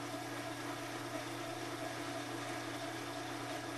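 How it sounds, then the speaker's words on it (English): A Whirlpool washing machine runs its spin cycle after a motor coupling repair, giving a steady, even mechanical hum and whir that holds at a constant level throughout, close by and alone. "We plug it in, and then we put it in spin cycle and see what happens."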